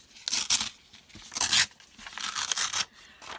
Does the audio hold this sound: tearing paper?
yes